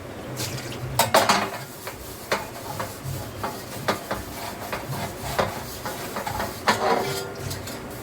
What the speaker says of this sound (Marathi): चला मी आता भांडे घासून घेते